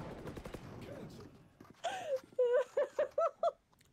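Rapid gunfire in a video game, a quick run of five or six evenly spaced shots following a brief burst of nearby voice noise.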